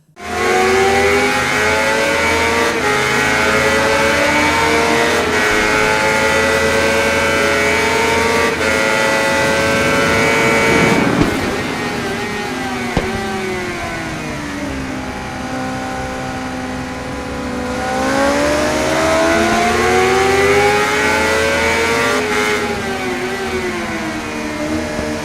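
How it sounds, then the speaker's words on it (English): A 2018 Honda CBR600RR's 599 cc inline-4 revs hard in the RIDE racing game, a loud, close, high-pitched wail that climbs and falls through gear changes, dips briefly, then rises again in a sustained howl. "The 2018 CBR 600RR is powered by a 599 cubic centimeter inline-4 engine producing 118 horsepower."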